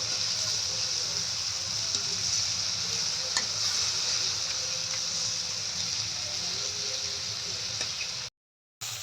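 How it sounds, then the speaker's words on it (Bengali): Prawns sizzle in hot oil, loud and continuous, with faint scrapes and clicks as the pieces are turned over, no voices, before a brief silent gap near the end. "মাছগুলো একটু ভাজা হয়ে গেছে, উল্টাই দিব।"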